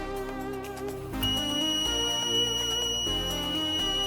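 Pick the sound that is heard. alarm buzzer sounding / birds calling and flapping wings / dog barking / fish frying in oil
alarm buzzer sounding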